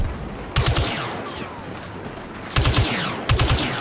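Rapid bursts of rifle fire in Star Wars Battlefront II crack in short volleys, separated by pauses, with scattered distant shots in between.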